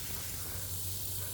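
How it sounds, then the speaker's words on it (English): Pork and bacon sliders steaming under a dome after water is added to the hot cooking surface, giving a steady, faint broadband hiss and sizzle with a low hum beneath, with no talking. "a little bit of water helps it steam and gets that cheese melting a little bit faster"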